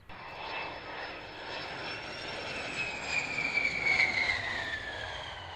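A fixed-wing aircraft comes in to land on runway 27, its engine a steady broadband roar with a high whine that rises and peaks toward the end of the approach, fairly distant and with no voices.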